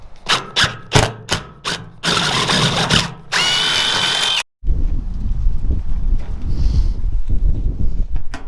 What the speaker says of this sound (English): we drill a hole and put a rivet in it